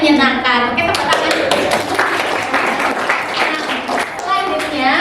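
A classroom group claps together during a mathematics lesson, a burst of sharp overlapping claps mixed with children's voices and a teacher talking over it.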